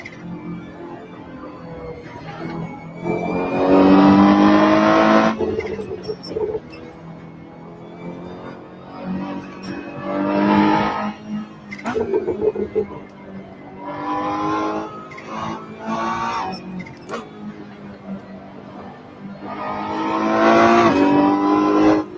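A race car in Assetto Corsa Competizione accelerates hard again and again, its engine rising in loud revving surges between quieter lifts off the throttle, with gear changes audible over about twenty seconds.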